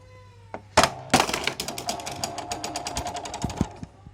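An antweight combat robot with a flipper works in a small arena, giving sharp mechanical clacks and a rapid run of buzzing, ticking servo or motor pulses, near and alone.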